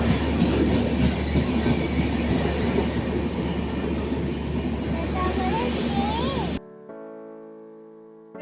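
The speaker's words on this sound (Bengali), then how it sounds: "যে আমাদের ট্রেন চলে এসেছিল" Train at Bolpur station, a loud continuous rumble of rolling carriages with a faint squeal near the end before it cuts to near silence; voices murmur faintly underneath.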